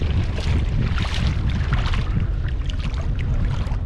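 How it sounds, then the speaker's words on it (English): Strong gusty wind buffeting the microphone at a campsite on Fraser Island, a constant roaring rush with fluctuating intensity and no voices. "Oof, a little windy."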